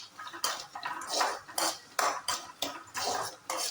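Ingredients for fish kulambu sautéed in a pan, with a metal spatula scraping and clattering against the pan in quick, repeated strokes close up, and no talking.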